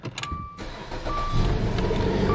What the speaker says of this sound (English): Come inside and start it up for you.